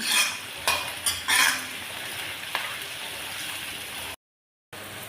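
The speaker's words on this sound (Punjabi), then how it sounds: "ਟਮਾਟਰ ਥੋੜਾ ਜਿਹਾ ਆਪਾਂ ਬਰਾਊਨ ਕਰਾਂਗੇ ਇਹਨਾਂ ਨੂੰ ਥੋੜਾ ਹੀ ਭੁੰਨਾਂਗੇ" Onions and tomatoes being stirred and fried in a pan for a spiced pumpkin curry, with a soft steady sizzle and a few louder scrapes of a spoon against the pan early on, and the sound cutting out briefly near the end.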